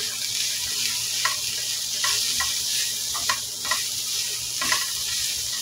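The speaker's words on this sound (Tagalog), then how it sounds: "Bali magigisa tayo dito ng bawang saka luya." Garlic and ginger sautéing in cooking oil, a steady close sizzle broken by a few sharp stirring scrapes and clinks, with no voices.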